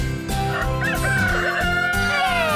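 Rooster crowing from a NICI Good Morning Buddy plush alarm clock, loud and close, with a tonal cock-a-doodle-doo call over a musical backing.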